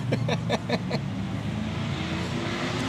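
Road traffic at night near a ballpark, a steady broad engine rumble with a few short sharp bursts early on, heard at moderate distance with no talk over it.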